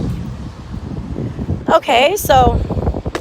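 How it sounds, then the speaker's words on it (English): Gusty outdoor wind buffets the microphone with a steady low rumble that runs through the whole stretch, continuing under a person talking in the second half. "I know it's windy."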